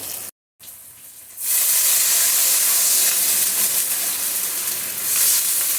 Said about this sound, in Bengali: এখন জলটা দিয়ে দিচ্ছি